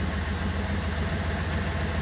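The V8 of a 1956 Ford Thunderbird idles steadily after an exhaust leak repair, a constant close rumble with no voices.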